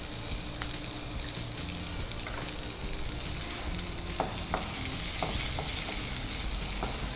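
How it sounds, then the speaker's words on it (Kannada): Onion frying in a pan makes a continuous dense sizzle throughout, close and fairly loud, with a few faint scrapes and taps from stirring partway through and no speech. "ಅದರ ಹಸಿ ವಾಸನೆ ಹೋಗುವ ತನಕ ಸ್ವಲ್ಪ ಫ್ರೈ ಮಾಡಿದರೆ ಆಯಿತು"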